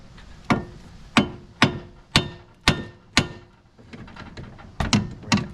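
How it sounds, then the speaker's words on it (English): Hammer striking a strut to knock it into place on a 2010 Ford Focus during a strut and shock install: seven or so sharp metallic blows at a steady pace, then a pause and a quicker cluster of hits, close and loud. "now I'm just going to take a hammer and pop it in"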